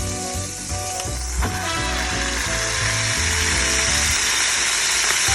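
A smash burger patty for a double smash burger fries hard on a hot griddle under a smash pan at Desperado Resort, Texas, giving a loud, steady, crackling sizzle that fills the whole stretch with dense spitting fat and no talk.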